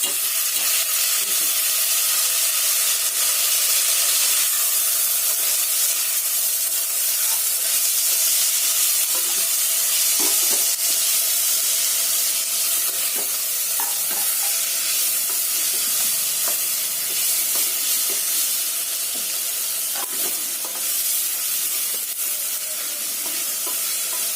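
Rice fries in a pan while being stirred, a steady hiss and sizzle with scattered scrapes and clinks running throughout, no talking.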